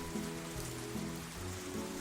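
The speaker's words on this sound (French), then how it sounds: "Écouter la pluie tomber doucement." Gentle rain patters softly and evenly, a quiet, constant hush heard over faint low tones.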